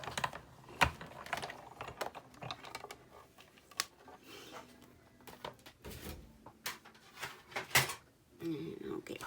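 Emboss and die-cutting machine cranked by hand through thick Whisper White cardstock and designer paper, giving quiet irregular clicks, creaks and mechanical thumps close by, with soft talking in the background.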